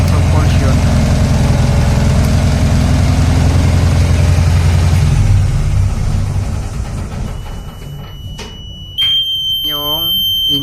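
A lifeboat engine runs with a loud, steady low rumble for most of the stretch, then a sharper mechanical whine and alarm-like tones come in near the end.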